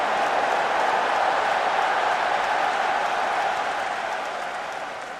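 A wrestling crowd at a Starrcade event cheers and applauds in a dense, steady roar that fills the space, then gradually fades toward the end.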